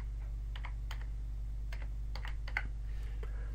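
Someone types in short, irregular bursts on a computer keyboard while building a website, with close, crisp key clicks over a steady low electrical hum and no talk.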